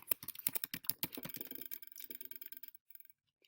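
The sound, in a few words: typing an email address on a computer keyboard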